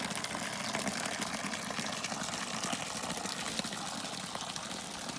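Water from a DIY solar-powered pump gushes out in a constant, close, rushing flow with a faint motor hum underneath, steady from start to finish with no speech.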